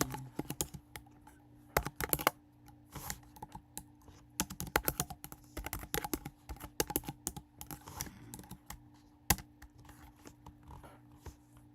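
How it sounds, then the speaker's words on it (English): Fingers type on a computer keyboard in quiet, irregular bursts of clicks with short pauses between them. "So let's type in"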